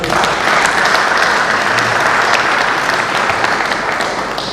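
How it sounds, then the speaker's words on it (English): Loud, full audience applause fills a hall at a Nigerian Bar Association Benin branch law week event, a thick steady patter of many hands clapping close to the microphone that eases slightly near the end. "they deserve a round of applause"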